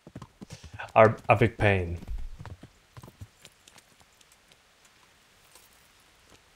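Horse hooves clip-clop through a town in the medieval video game Kingdom Come Deliverance, a steady rhythmic patter running under loud male speech at the start and continuing alone, fainter, afterward.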